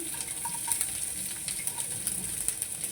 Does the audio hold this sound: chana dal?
yes